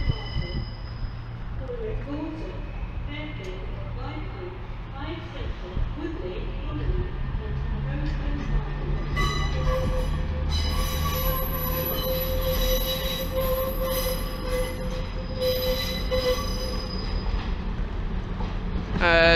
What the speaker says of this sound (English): A class 142 Pacer crawls its way into the station.